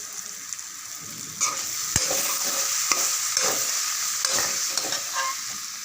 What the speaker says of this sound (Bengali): ভেজে রাখা পেঁয়াজ, রসুন আর কাঁচা লঙ্কা বাটা এটাও দিয়ে দিলাম